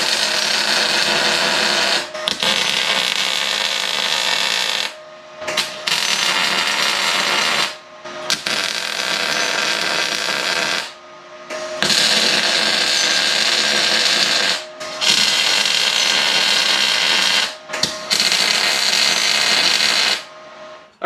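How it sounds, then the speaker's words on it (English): Repeated bursts of electric welding crackle and buzz as a homemade press brake built from scrap metal is tacked together, about seven close, loud bursts of a few seconds each separated by brief silences. "now we're going to grab the welder and we're just going to go ahead and tack this thing up"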